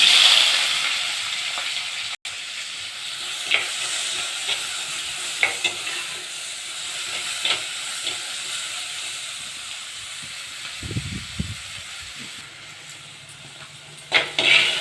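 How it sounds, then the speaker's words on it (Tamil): Mustard seeds, lentils and onion frying in hot oil give a steady, loud sizzle and hiss, broken by occasional stirring scrapes and a few soft clunks near the end, with no talking. "எண்ணெய் ஊற்றிக்கலாம். கடுகு, உளுத்தம்பருப்பு, கடலைப்பருப்பு, வெங்காயம் போட்டுக்கலாம்."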